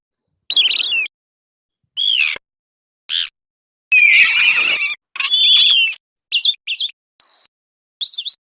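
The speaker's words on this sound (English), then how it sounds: "Yeah, sounds of birds." Recorded birdsong played from a sound card, a series of separate bright chirps and short calls with brief silences between them, clear and fairly loud.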